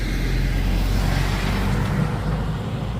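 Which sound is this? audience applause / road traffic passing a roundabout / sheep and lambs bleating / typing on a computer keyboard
road traffic passing a roundabout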